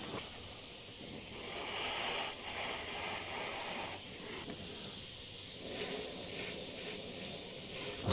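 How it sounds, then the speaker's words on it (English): Spray paint hisses steadily from an aerosol can along the edge of a paper template while painting a rose, a continuous close, even spray with slight pulses in intensity. "So I'm going to line it up like so and spray in there."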